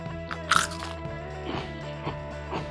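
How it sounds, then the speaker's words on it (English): Biting into a crisp Pringles Hot Ones chip gives one sharp crunch near the start, followed by softer, quieter chewing crunches spread over the next couple of seconds, close up. "You bite into it, you get that nice little sound, the sound of this is a real Pringles."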